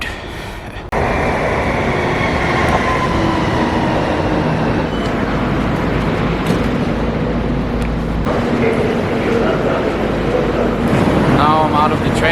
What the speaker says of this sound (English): I thought it would be a train, but it's a subway going into Frankfurt.